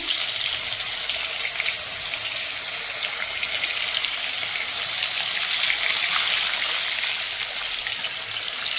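A batch of food sizzles in hot oil in a home kitchen, with an earlier batch already fried on one side. The hiss is steady, dense and bright, close by, with no voices.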